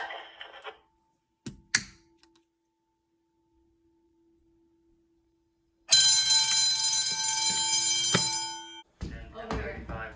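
Electric fire alarm bells at a 1990s elementary school ring loudly and steadily for about three seconds mid-clip, then cut off. Brief bursts sound before and after, with short clicks and quiet gaps between.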